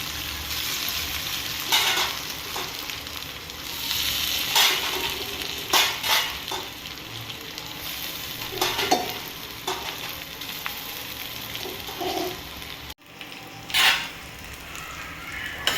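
Bombay duck fish (bombil) sizzling in a frying pan with browned garlic, a steady crackling fry close by with intermittent stirring and pan scrapes, no talking.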